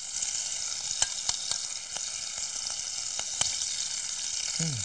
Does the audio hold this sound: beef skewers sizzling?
yes